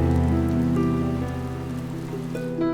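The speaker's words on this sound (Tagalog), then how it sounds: "Ang ingay ng ulan ay tila iyak ng kalikasan" Heavy rain from Typhoon Uwan patters steadily on a surface close by, a dense continuous drumming with faint tonal ringing layered underneath and no voices.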